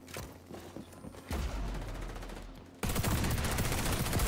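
Gunfire from an MP7 submachine gun in the video game XDefiant: a rapid stream of shots that swells into a dense, loud burst of automatic fire, heard alone without voices.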